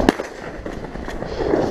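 A shotgun fires once, a sharp blast right at the start, during duck and goose jump shooting on the Missouri River, followed by outdoor wind and rustle.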